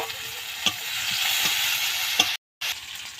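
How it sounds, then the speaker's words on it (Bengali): Green chillies, onion and garlic frying in a pan, a steady bright sizzle with a few soft stirring clinks, close and alone, with a brief dropout near the end. "তো দেখো লঙ্কাটাও আমি বেশ ভেজে নিয়েছি"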